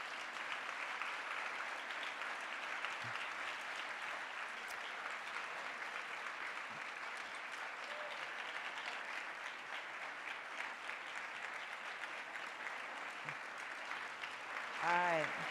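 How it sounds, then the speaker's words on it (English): Sustained audience applause at a walking summit lunchtime plenary, thanking a panel, a dense even wash of many hands clapping that holds steady for the whole stretch. "A round of applause, please."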